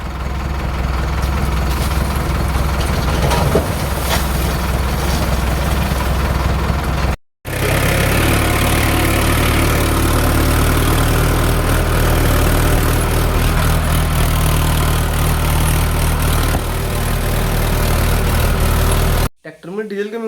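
A diesel tractor engine running steadily, a loud low-pitched chugging drone close by that continues for most of the time, briefly cutting out twice, with people talking over it.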